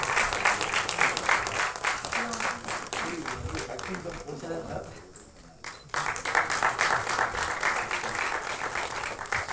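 Loud, sustained applause from a large audience at an album song screening festival, dipping briefly in the middle before surging again, with a voice faintly audible underneath.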